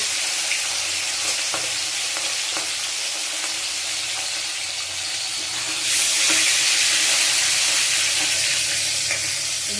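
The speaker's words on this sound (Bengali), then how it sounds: "আজকে ঝাল সারা পমফ্রেট মাছের ভাজা করছি।" Spicy pomfret fish fries in a pan with a loud, continuous sizzle and hiss, occasional crackles, and a brighter surge of spitting oil partway through.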